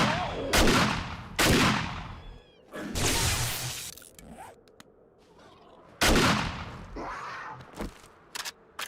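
Bursts of gunfire in the zombie survival game 7 Days To Die, several loud sharp volleys and single shots separated by short pauses.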